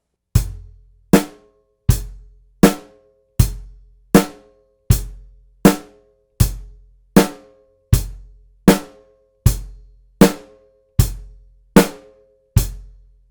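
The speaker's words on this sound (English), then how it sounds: "and we're going to play our first drum beat," A basic drum-set beat of bass drum, snare drum and hi-hat played in steady quarter notes, with crisp alternating low kicks and sharp snare hits over a steady hi-hat for about thirteen seconds.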